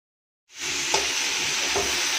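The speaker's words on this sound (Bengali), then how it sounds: "পটলগুলো দিয়ে নাড়াচাড়া করে ভালো করে ভেজে নেব।" Sliced pointed gourd sizzles and fries loudly in hot oil with bay leaf and whole cumin, starting abruptly with a steady hiss and a couple of soft scraping stirs of the pan.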